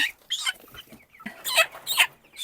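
Farmyard chickens give short, choppy clucks and squawks in a few separate bursts, fairly close and clear against a quiet rural backdrop, with no voices.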